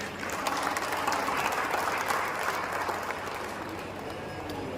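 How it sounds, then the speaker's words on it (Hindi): An audience at an Ambedkar Jayanti gathering applauds railway workers with a steady, even wash of clapping from a crowd that holds at a constant level throughout. "तो उनके लिए भी भाई एक तालियां तो बनती है।"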